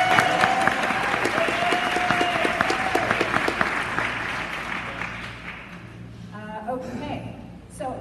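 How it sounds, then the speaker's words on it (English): An audience at a website accessibility summit applauds the vendors, a dense, steady clapping that is loud at first and gradually thins and fades toward the end, with a brief voice near the close. "can we please give all the vendors a round of applause?"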